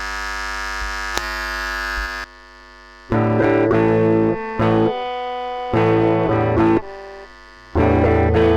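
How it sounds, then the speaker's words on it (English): A heavily distorted electric guitar plays sustained, buzzing chords in loud bursts separated by brief silences, starting over a steady hum. "And turning up the distortion"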